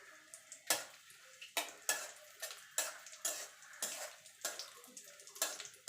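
Raisins fry in ghee in a pan for semolina halwa, heard as rhythmic spatula scrapes and taps roughly once a second over a faint sizzle, close and fairly quiet.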